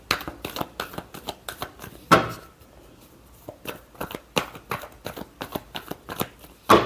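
Playing cards being shuffled by hand in a series of quick riffling bursts and soft flicks, fairly close and quiet, with short pauses between shuffles.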